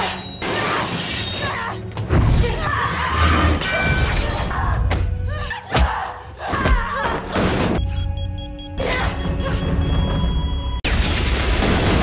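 Loud crashes, smashes and heavy thuds of an explosion and brawl inside an aircraft cabin, dense and chaotic with repeated sharp impacts over a continuous roar.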